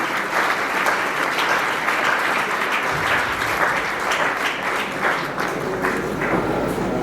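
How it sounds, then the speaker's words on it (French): A crowd at a church celebration for a pastor's 28 years of Christian life applauds steadily, a dense, even wash of clapping that stays loud for the whole stretch. "ça mérite également des applaudissements et acclamations"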